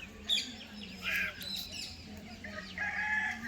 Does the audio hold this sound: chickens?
yes